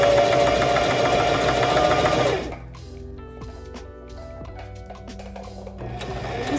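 A sewing machine stitches knit fabric in a loud, steady run for about two seconds, then stops abruptly, leaving quieter mechanical clicks and faint hum.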